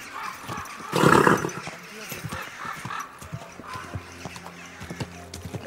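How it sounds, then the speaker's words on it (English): A horse in the Kingdom Come Deliverance 2 video game clip-clops in a steady walking rhythm, hooves knocking clearly up close, with a louder burst of movement early and someone speaking over parts of it. "Easy, good horse."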